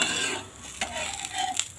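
A white pumpkin dosa sizzles on a hot pan, a close, steady crackling hiss with a few faint metallic taps and scrapes, and no voices.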